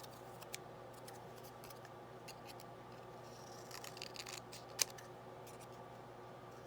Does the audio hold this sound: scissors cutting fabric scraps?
yes